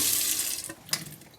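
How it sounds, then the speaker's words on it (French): Water running from a kitchen mixer tap as a thin, steady trickle, hissing close by for the whole moment with a brief splash near the end. "Un léger filet d'eau, mais rien de bien inquiétant"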